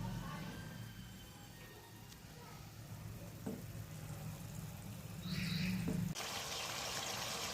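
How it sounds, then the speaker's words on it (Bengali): Water added to a pan of stuffed pointed gourds filled with chicken: a soft trickle and low sizzle, close, swelling into a brighter rushing pour near the end. "আমি একটু জল দিয়ে দিই বাদবাকিটা একটু সেদ্ধ হয়ে যাবে"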